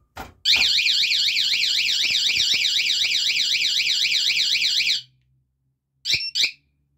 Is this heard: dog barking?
no